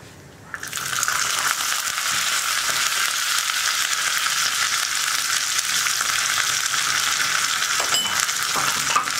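Cashew nuts and black raisins fry in hot oil in a pan, giving a sudden burst of sizzling that stays loud and even, with a few clinks from stirring near the end. No voices are heard.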